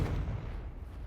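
The Confringo fire spell in Hogwarts Legacy hits with a heavy, rumbling blast whose deep boom holds steady and loud for about a second, with no speech.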